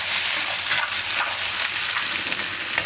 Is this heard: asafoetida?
yes